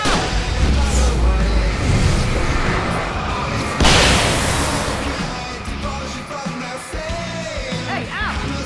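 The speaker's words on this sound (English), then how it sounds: "I can set off more of the fireworks from here and help you out!" Fireworks going off in the video game Alan Wake Remastered: deep booms and crackling bursts, loud and close, layered with shouted game voices and a sudden heavier blast midway.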